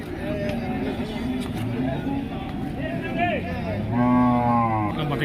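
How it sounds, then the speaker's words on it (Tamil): Large Manappari draught cattle moo at a busy cow market, with drawn-out low calls rising above constant crowd chatter and nearby voices. "மணப்பாறை மாடு"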